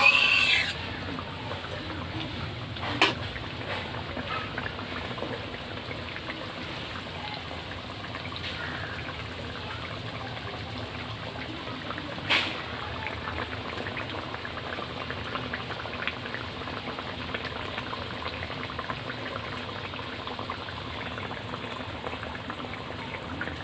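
Bhola fish curry bubbles at a steady, close boil in a pot, with two sharp clinks of the stirring spoon against the vessel partway through.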